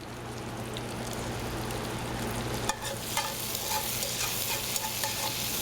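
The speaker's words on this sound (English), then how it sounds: "Yeah, nice sizzle to it." Food sizzles in a hot pan with a steady crackling hiss, then stirring or an added ingredient brings a louder burst of sputtering frying that continues to the end.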